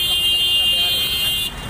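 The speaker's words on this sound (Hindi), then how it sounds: "गाड़ियों का हॉर्न भी आप सुन सकते हैं" Traffic on a congested road in Mumbra holds a steady high-pitched horn or alarm-like tone that sounds continuously and cuts off near the end, over background traffic noise.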